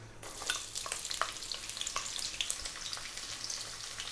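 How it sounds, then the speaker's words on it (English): Chopped onion frying in hot oil, steady crackling sizzle with scattered sharp pops and faint stirring scrapes, close and fairly quiet, with no voices. "Next up, we're going to add our onion."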